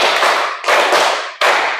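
A class of students clap their hands together in unison on a spoken count, three loud sharp bursts of many hands at once, each dying away before the next.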